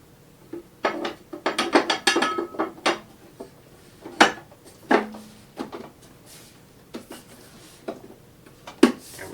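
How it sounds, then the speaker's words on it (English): Small screws being driven back into the top panel of an Elation Sniper 2R moving-head stage light, heard as a close series of sharp metallic clicks, taps and rattles in uneven bursts with quiet gaps between. "Getting those little screws back in."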